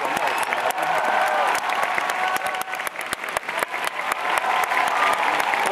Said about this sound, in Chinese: 把掌声再一次送给他。